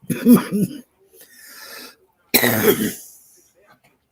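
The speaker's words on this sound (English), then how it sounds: "I have a really bad cough." A person coughs and clears their throat in two harsh, close bursts: a rough double hack, a quieter rasping stretch, then another strong wet cough after a brief pause.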